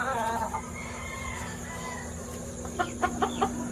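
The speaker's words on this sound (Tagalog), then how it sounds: "kasama po itong manok na to, yung magiging anak niya" A chicken clucks in a few short bursts near the end, over a steady background hum and low rumble, fairly faint and alone without talk.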